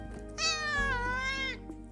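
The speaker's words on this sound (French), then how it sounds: "Vous avez mon chat qui vous dit bonjour." A cat meows close to the microphone, one long, clear, rising-then-falling meow lasting over a second. Low room rumble sits underneath.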